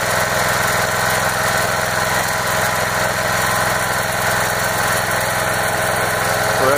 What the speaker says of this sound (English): So that's it, the Gasifier.